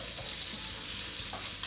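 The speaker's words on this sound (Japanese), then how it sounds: "皮面だけを10分焼いていく" A large chicken thigh sizzles skin-side down in a pan over medium-low heat, giving a quiet, steady, hissing crackle with no talk.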